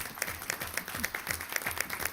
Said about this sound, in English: Could we give another round of applause for the Jameson dual language kids?